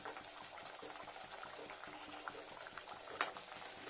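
Puris made with spinach and radish fry in hot oil, giving a faint, steady bubbling sizzle with small pops, alone and quiet throughout.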